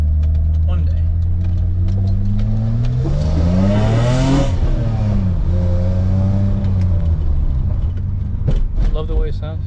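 A BMW E30's engine revs up to a high, rising whine and then falls back, loud and close, with the engine droning steadily throughout and people talking over it.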